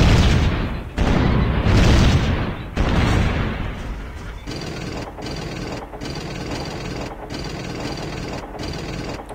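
Gunfire and booming blasts in the strategy video game Civilization III Conquests, loud dense bursts at first that settle into a steady rumbling battle bed with repeated sharp cutoffs.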